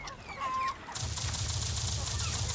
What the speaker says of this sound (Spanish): Seguro que si le disparo mucho a los cucos me atacan.